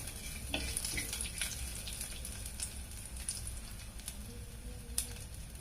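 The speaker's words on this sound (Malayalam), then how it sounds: "നന്നായിട്ട് നമ്മുടെ ചെറിയ ഉള്ളി നന്നായിട്ട് മൂത്ത് വരണം" Small onions, or shallots, frying in oil for a Kerala buttermilk curry, with a dense crackling sizzle like light rain and occasional stirring clicks, steady and close, with no talk.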